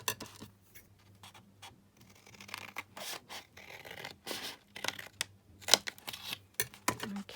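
Paper being cut along a guide for a vintage paper pouch craft project, with irregular close scratchy cutting strokes and small ticks and rustles, quiet and uneven, no talking.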